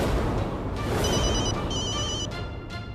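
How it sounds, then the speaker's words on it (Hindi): A telephone rings with a bright electronic trill in two short bursts over a loud, dense background wash, close and clear for about three seconds. "इंस्पेक्टर राणा, आप मुझे कॉल कर रहे हैं?"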